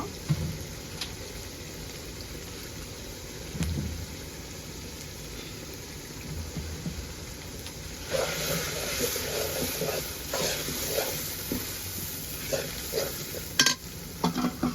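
Raw jackfruit curry with coriander and garam masala being stirred in a sizzling pan, scraping and hissing growing louder partway through.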